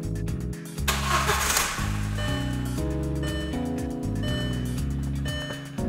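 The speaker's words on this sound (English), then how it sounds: "we're going to go ahead and turn the car on" A VW/Audi car engine starts with a brief cranking burst, then settles into a steady, even idle with a low, regular hum, heard up close with no talking.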